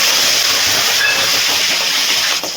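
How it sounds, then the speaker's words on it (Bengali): Two cardamom pods and mutton fat go into hot oil for Bengali mutton curry, giving a loud, steady hiss of sizzling that stays even for the whole moment and eases slightly at the end. "এই গরম তেলের মধ্যে দিয়ে দিচ্ছি 2টো এলাচ, আর দিয়ে দিচ্ছি খাসির মাংসের চর্বি।"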